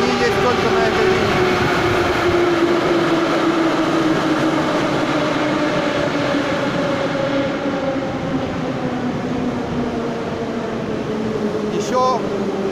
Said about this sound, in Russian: Редкие довольно вагоны, номерные 6К, по-моему, они называются